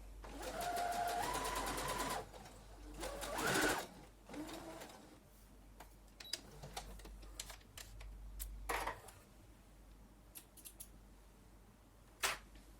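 A domestic sewing machine stitches a reinforcement seam along the edge of the fabric. It runs in a steady whirring burst at first, then makes shorter intermittent runs and clicks with pauses between them.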